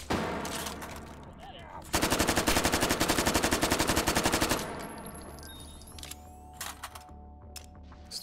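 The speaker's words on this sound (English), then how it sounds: "Let's just reload at that point." Reloading a gun in the VR shooter Hot Dogs, Horseshoes & Hand Grenades: a burst of rapid automatic gunfire is followed by scattered sharp mechanical clicks and clacks of handling the weapon, with faint background music.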